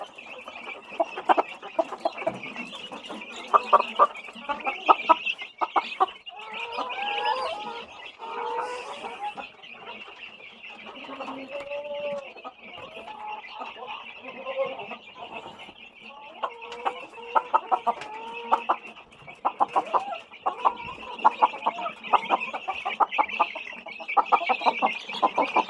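Breeding hens cluck continuously in a busy coop, with many overlapping calls and sharp clucks at close range, set against a constant high background drone.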